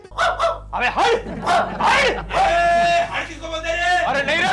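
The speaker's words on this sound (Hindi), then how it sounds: "अभी तक सिर्फ एक कुत्ता भौंक रहा था" A dog barks in short bursts on a comedy sitcom set, with people talking loudly over and between the barks.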